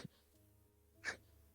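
One quick, faint sneeze breaks a quiet room tone during a tabletop role-playing session, preceded by a soft click.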